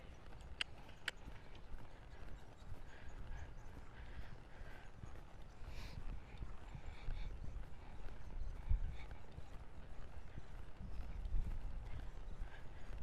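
Horse hoofbeats on ground during a training ride, a steady rhythmic clip-clop of footfalls close by that continues evenly throughout, with faint shuffling under it.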